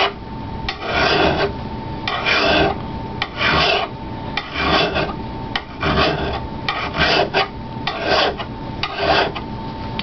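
Metal file sharpening the edge of an axe, a dry rasping scrape repeated in about a dozen steady back-and-forth strokes, close and clear.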